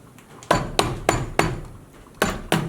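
A mallet strikes a big gouge into cedar wood in six sharp, evenly spaced knocks, fairly close and clear, with no one talking.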